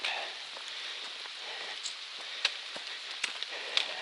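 Steady light rain patters on the Appalachian Trail, a soft hiss with scattered louder drops tapping nearby, no voices.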